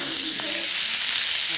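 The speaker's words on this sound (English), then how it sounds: "Oh, listen to that sizzle." Steaks sizzle steadily in a pan on a camper stove, a loud, bright hiss of frying fat with faint crackles, continuous and close up with no voices.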